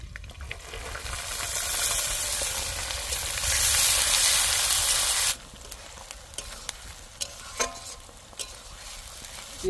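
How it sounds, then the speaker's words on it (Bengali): Onion sizzles loudly and steadily in hot oil with garlic paste, tomato, bay leaf and green chilli for a potol chingri dish, then drops suddenly to a quieter simmer punctuated by spoon clicks and stirring scrapes. "পেঁয়াজটা ভাজা ভাজা হয়ে গিয়েছে"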